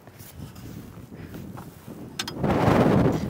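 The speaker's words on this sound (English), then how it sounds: "That wind does not help." Outdoor wind gusts buffet the microphone in a low rumbling roar that swells louder toward the end, with faint rustling and no voices.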